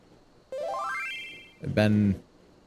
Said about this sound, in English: That's the sound effect of a tell